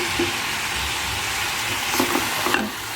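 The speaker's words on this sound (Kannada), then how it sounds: "ನಾನು ಒಂದು ಒಂದು ಹನ್ನೆರಡು ನಿಮಿಷ ಆಗೋಷ್ಟು ಇದನ್ನ ಫ್ರೈ ಮಾಡ್ತಾ ಇದ್ದೀನಿ" Fenugreek leaves (methi) frying in a pan for a Mysore Brahmin-style methi gojju give a steady, close sizzle throughout, with a few light stirring scrapes near the end.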